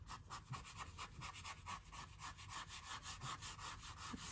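Rapid rhythmic scrubbing of a dry paintbrush on canvas, close and faint, steady back-and-forth strokes with no talking.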